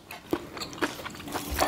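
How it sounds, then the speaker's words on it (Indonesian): Crunchy peanuts in a shrimp-paste sambal are chewed right at the mouth: a few crisp, close bites and crunches spread irregularly over a couple of seconds, quiet, with no talking. "Kacangnya masih kriuk-kriuk ya."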